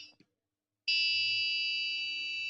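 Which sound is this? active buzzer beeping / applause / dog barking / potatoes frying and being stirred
active buzzer beeping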